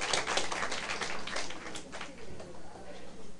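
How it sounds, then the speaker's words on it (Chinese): A group of people clapping hands together at an evening lecture gathering in Taiwan, a dense burst of applause that fades out over a few seconds in a reverberant hall. "我们拍手鼓励自己"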